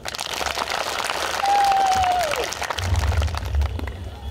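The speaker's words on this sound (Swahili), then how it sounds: "Nimpigie makofi sana." A village crowd at a peace gathering breaks into applause, a dense patter of clapping heard at a distance with a brief tonal whistle-like sweep partway through.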